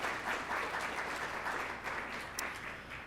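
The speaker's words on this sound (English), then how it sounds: "One more round of applause for our forum partners." An audience at a workplace forum claps in a brief, even burst of applause that stays fairly faint and steady for about three seconds.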